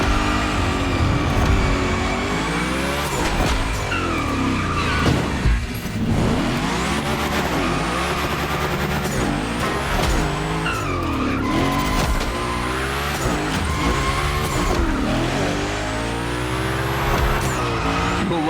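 In The Crew Motorfest gymkhana, the Unicorn car slides through long drifts, its tires squealing and skidding over a revving engine that rises and falls, continuous and close throughout.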